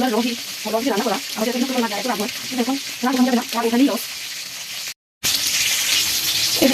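Fish frying in a pan gives a continuous hissing sizzle that runs under a person talking throughout, broken by one short gap before the sizzle resumes alone.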